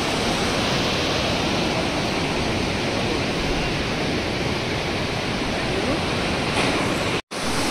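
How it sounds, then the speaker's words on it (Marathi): A fast-flowing blue river rushes beside the gurudwara at Manikaran, a loud unbroken roar of water throughout that drops out abruptly near the end. "एकदम अशी निळी कलरची नदी आहे जी काही खूप अशी प्रवाहाने वाहती आहे"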